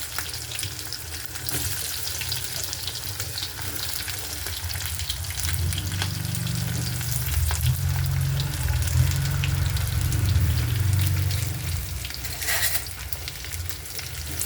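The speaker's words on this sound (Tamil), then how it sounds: "வெங்காயத்தை போட்டு நல்லா வதக்கிடுங்க" Onions with curry leaves, ginger and garlic sautéing in a pan for tomato peanut chutney, a steady close sizzle with stirring scrapes and a deeper bubbling rumble swelling midway, no voices.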